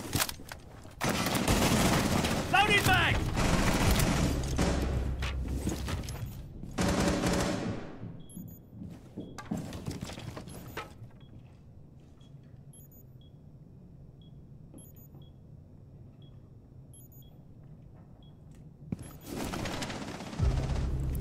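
Automatic weapon fire in Rainbow Six Siege ranked play crackles in dense rapid bursts for several seconds, fades into a long quiet lull with faint electronic beeps, then another burst erupts near the end.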